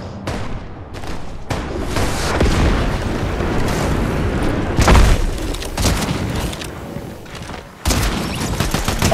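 Fortnite firefight: repeated gunshots and booming blasts, irregular loud bursts with a heavy impact near the middle and another sharp volley toward the end.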